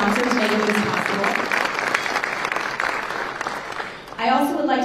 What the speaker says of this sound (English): Please give me a round of applause for all the sponsors making this possible.